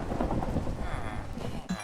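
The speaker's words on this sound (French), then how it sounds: "Et l'orage dehors, ça me donne vraiment pas envie d'y aller." A Minecraft thunderstorm: steady rain hiss with a low, rolling rumble of thunder underneath, heard close and continuous for a couple of seconds.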